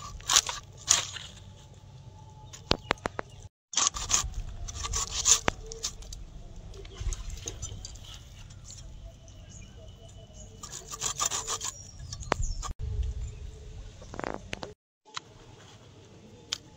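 A knife scrapes and saws through a live kalibaus fish with hard bones, making repeated gritty rubbing and crunching strokes with short pauses between.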